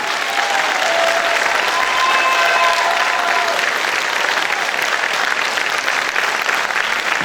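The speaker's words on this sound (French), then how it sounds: "j'aimerais qu'on applaudisse Marie" Steady, dense applause from an audience at a variety show in a casino, honoring Marie, a young performer; brief whistles ride over the clapping, which holds at an even level throughout.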